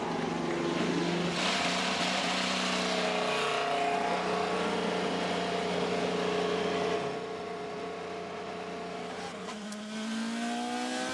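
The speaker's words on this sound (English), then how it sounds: "Drivers, start your engines!" IndyCar race car engines fire up at Road America, a loud massed roar of many cars revving together with rising and falling pitches, and a crowd faintly under it.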